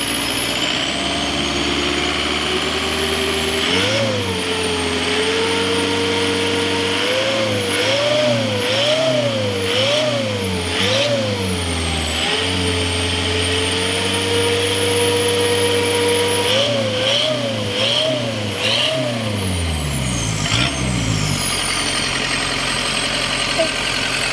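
An Isuzu 3000 turbo engine fitted to a farm vehicle warms up, idling steadily and then revving in repeated rising and falling bursts, loud and close, before winding down near the end.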